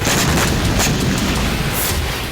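A loud, dense boom from an explosion near a naval base in Haifa, heard as a sustained roaring blast with crackling noise throughout, close and overwhelming.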